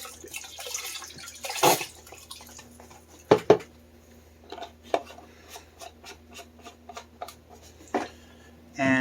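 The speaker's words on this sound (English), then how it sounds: "I'm going to rinse this out too, and then add the extra water back in." A container being rinsed out with water during chili canning: short bursts of running tap water, clinks of a pot and utensils, and drips scattered through a quiet kitchen.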